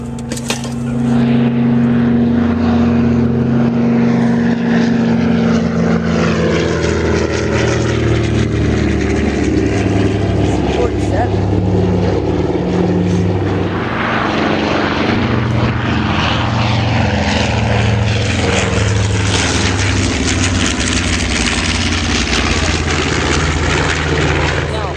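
Propeller airplanes flying in formation at a 2010 airshow in Westfield, a loud continuous engine drone with steady low harmonics filling the whole stretch, swelling as they pass, with spectators talking underneath.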